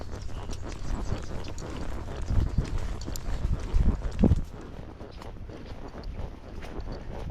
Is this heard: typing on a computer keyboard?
no